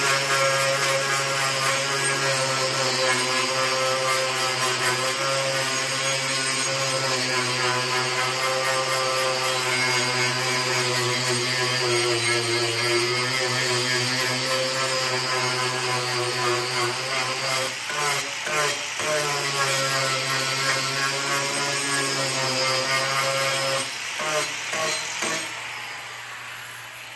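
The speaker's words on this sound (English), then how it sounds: "Just go back with the ArborTech grinding wheel and take it off." An ArborTech grinding wheel cuts into the wood of a handmade charcuterie board with a steady, loud, whining drone, carrying on for over twenty seconds before a few stuttering changes in pitch and a trailing off near the end.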